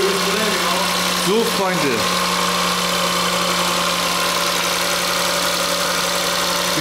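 Idling engine of a Smart 453 Brabus after timing chain repair, a steady, even hum running throughout with a brief warble early on, while someone speaks German over it.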